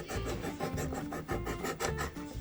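A paper trimmer lever is pulled back to cut a 5.5-inch strip of heavy cardstock, giving a steady, close, rhythmic scraping rasp with repeated strokes that lasts the whole moment, with no talking.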